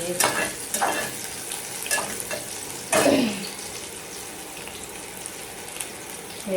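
Garlic sizzles in a hot pan while a spoon scrapes and stirs it in several sharp bursts, one louder sweep about halfway through, over a steady frying hiss.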